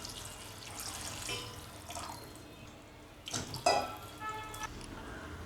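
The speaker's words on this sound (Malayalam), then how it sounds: "ഇനി ഇതിൻ്റെ അതിലൂടെ 2 കപ്പ് വെള്ളം ഒഴിച്ചു കൊടുക്കാം." Water being poured into a pan of sautéed carrots for carrot soup in a home kitchen, a soft splashing trickle with a few louder bursts of liquid and clinks against the pan.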